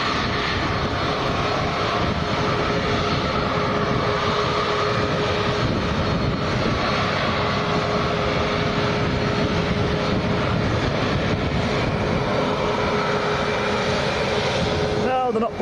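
An airplane taxis slowly at Lanzarote airport, its engine a steady, continuous broadband roar with a faint sustained whine held for the whole stretch, fairly close and unchanging in level.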